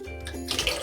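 Apple cider vinegar is poured into a container of water, making a brief, close splashing trickle that builds slightly toward the end.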